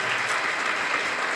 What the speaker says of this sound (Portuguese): Vamos aplaudir ao Senhor pela vida do nosso pastor.